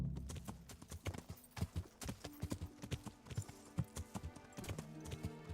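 Horse hooves clip-clop in a steady, fairly quick rhythm in a video game, moderately close and alone without talk over it.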